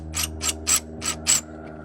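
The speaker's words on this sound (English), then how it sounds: "I'll just take a number 3 Phillips head screwdriver, tighten these down" A number 3 Phillips head screwdriver tightening screws on a Jeep JK taillight housing gives five crisp ratcheting bursts at an even rhythm, close and alone.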